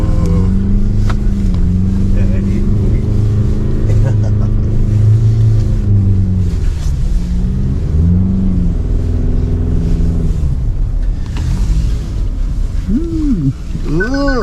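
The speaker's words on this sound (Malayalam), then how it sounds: "ചരിഞ്ഞിങ്ങനൊക്കെയാ വണ്ടി ഇറങ്ങിപ്പോകുന്നത്." A Ford Endeavour rumbles and revs as it slides down steep sand dunes in the Jaisalmer desert at sunrise, with steady loud engine drone and rising, falling pitch, and someone talks over it throughout.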